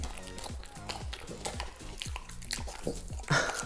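A dog crunches on biscuits, with rapid rhythmic bites and chewing close to the microphone, steady throughout and a slightly sharper crunch near the end.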